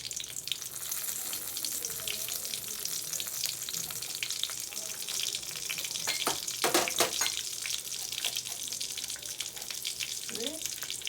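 Hot oil sizzles and crackles steadily as mustard seeds, vadagam and dried chilli are dropped in for tempering, with a burst of sharp popping midway and faint clatter near the end.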